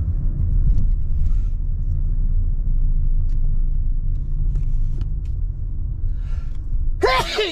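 Steady low road rumble from inside a car stuck in traffic in Saudi Arabia, continuous and fairly loud, with someone talking over it and a brief squeaky burst near the end.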